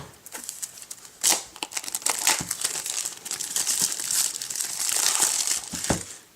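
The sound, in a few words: cutting plastic wrap off Apple TV box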